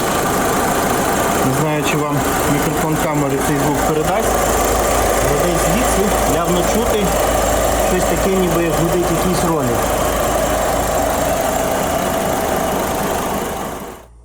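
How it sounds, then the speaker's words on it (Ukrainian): A running Skoda Fabia 2 with a 1.6 TDI diesel engine holds a steady, loud mechanical hum throughout, with a fine whirring from the belt-driven pulleys and a faint warbling tone over it before the sound cuts off at the end. "з'явився якийсь шум. Таке враження, що якийсь ролик, не знаю звідки."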